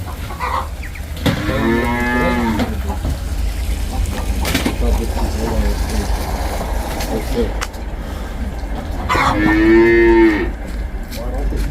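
A cow moos twice, loud and close, with a long low call at the start and another near the end, over steady outdoor background noise.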